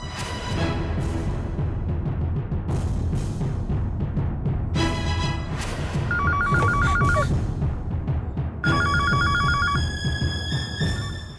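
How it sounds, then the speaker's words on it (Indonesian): A telephone rings unanswered in repeated bursts of electronic bell tones, loud and close, set against a steady background of noise and music during a tense drama scene. "Belum diangkat teleponnya."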